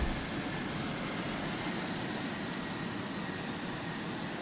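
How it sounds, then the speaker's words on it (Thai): Aircraft engine in the Carrier Command 2 video game, a steady, even drone that holds at moderate level for the few seconds with no talk. "นี่เป็นเครื่องบินนี่หว่า"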